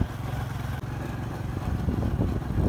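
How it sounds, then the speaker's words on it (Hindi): A motorcycle rides along a potholed village road, its engine a steady close rumble with uneven bumps and rattles as the wheels hit the holes. "बाएं हाथ से बाइक चला रहा हूँ मैं गड्ढों में।"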